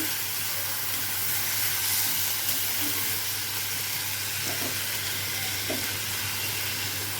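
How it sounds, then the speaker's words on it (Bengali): Gobindobhog rice dry-frying in a pan for a Bengali fish-head muri ghonto, a steady close sizzle and hiss with occasional soft scrapes of stirring, continuous and unbroken throughout. "চালটাকে একটু ভাজা ভাজা করে নিচ্ছি"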